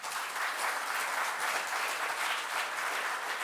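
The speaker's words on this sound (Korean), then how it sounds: "큰 박수 부탁드리겠습니다" Steady applause from a conference audience after a keynote speech at an ICT forum, even and continuous for a few seconds, moderately distant and with no voices.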